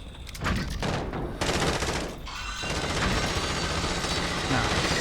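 Continuous gunfire from several weapons fills a co-op shooter video game mission, with dense rapid bursts and short breaks, loud and close throughout.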